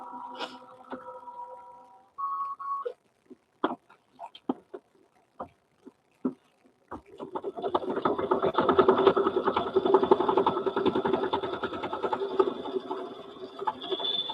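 A sewing machine quilting three fabric layers held in a hoop starts after a few beeps and taps, then runs in a steady, fast, buzzing stitch for several seconds, close and fairly quiet.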